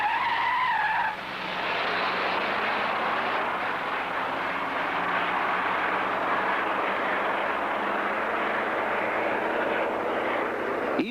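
Tires of a 1962 Chrysler 300 skid on wet pavement during a hard acceleration run at a proving ground, a loud sustained hiss and roar of engine and spinning rubber lasting several seconds.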